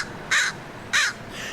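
An American crow gives three clean, harsh caws at an even pace in a field recording, the first two loud and close, the third slightly softer, with no other sound.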